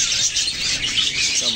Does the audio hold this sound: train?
no